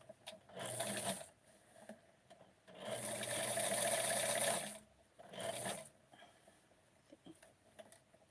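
A sewing machine stitches darts on the front of Barbie doll hippie pants in three separate runs, the middle one longest, a steady close whirring with quiet pauses between.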